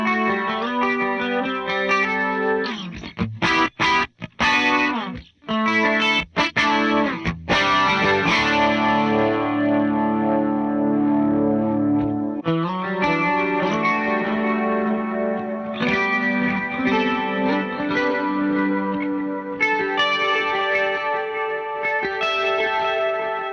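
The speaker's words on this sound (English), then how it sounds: "Double chorus is using 2 different forms of chorus-esque modulation" Electric guitar played through a Meris LVX pedal, first dry then with its double chorus modulation combining chorus and pitch wobble; sustained chords and picked notes ring continuously with shimmering, swirling movement, close and without talk.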